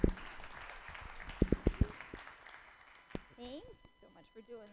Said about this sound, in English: let's have a very big and very warm and very gracious round of applause for our panelists